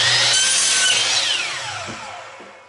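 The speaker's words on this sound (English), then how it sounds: "we're going to cut an opposing miter right on that line there" A hand saw cuts a miter through wood in a small workshop, a single rasping stroke that fades out over a couple of seconds.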